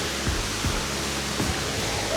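A waterfall on a trek near Bir Billing roars steadily up close, a dense, unbroken wash of falling water with a few soft bumps from wind or handling at the microphone.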